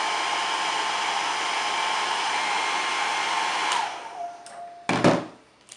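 A handheld heat gun warms Jamberry nail shields with a loud steady blowing whir that drops in pitch as it switches off, followed by a couple of brief handling clicks.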